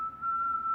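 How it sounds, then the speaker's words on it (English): A lone melodic whistle carries the nursery rhyme "A Hunting We Will Go" as Omar whistles it on the hunt in The Wire, a single steady tune held close and clear for under a second. "repeated rendition of the nursery rhyme, "A Hunting We Will Go," a song that Omar whistles when he is on the hunt"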